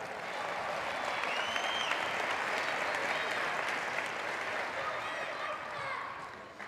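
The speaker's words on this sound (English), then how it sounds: "clap again" A crowd at a community pep rally for the Maysville basketball team's Final Four run claps steadily and densely for the whole stretch, a loud, unbroken wash of applause filling the room.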